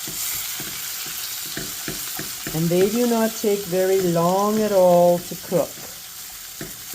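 Shrimp sizzle in garlic butter in a pan with browning garlic, a steady soft hiss with small clicks running beneath a person talking through the middle.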